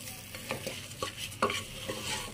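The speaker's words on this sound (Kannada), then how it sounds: "ಅಕ್ಕಿನ ಒಗ್ಗರಣೆಯಲ್ಲಿ ಚೆನ್ನಾಗಿ ಹುರ್ಕೊಬೇಕು" Soaked rice stirred and roasted in a hot tempering over a high flame, a few scraping strokes of a spoon in the pan over a low frying sizzle.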